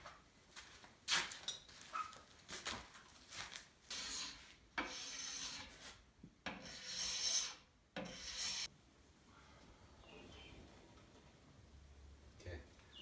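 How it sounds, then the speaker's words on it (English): A wooden bow limb is scraped during tillering, heard as a run of rough rasping strokes in uneven bursts that fade into quieter handling noise toward the end. "I'd take maybe long scrapes, maybe 30 heavy scrapes off of each of those areas"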